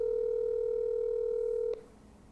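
A steady telephone dial tone hums loud and unbroken, then a click cuts it off, leaving faint line hiss behind; no voices are heard.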